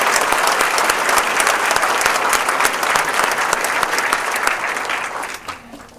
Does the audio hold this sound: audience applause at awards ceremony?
yes